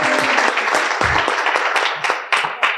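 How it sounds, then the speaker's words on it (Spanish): A conference audience applauds with a dense burst of clapping that thins out toward the end, fairly close and loud. "Un aplauso para el doctor Fabio Gil."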